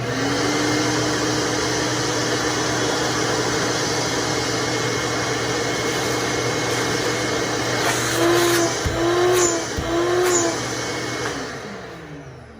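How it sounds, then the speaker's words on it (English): A shop vacuum without a diffuser drones loudly and steadily throughout with a broad rushing airflow hiss, a few faint clicks and tones near the end. "So this is the normal sound of the vacuum."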